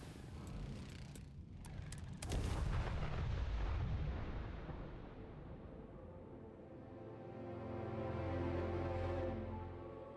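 A spaceship in Starfield fires its retro thrusters as it comes in to land: a few sharp bursts, then a deep, rumbling roar that fades and swells again, steady and heavy with no voices.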